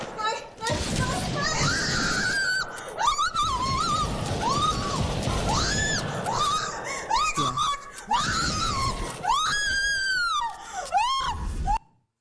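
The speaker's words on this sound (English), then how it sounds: "Yeah, that was a jump scare." In a VR horror jump scare, a woman lets out loud, piercing screams in repeated wavering bursts over dense noise. The final shrieks climb higher before cutting off abruptly.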